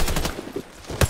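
Several quick gunshot bursts from a P57 pistol in a first-person shooter game, sharp loud cracks clustered at the start and another close, punchy shot near the end, with a brief lull between.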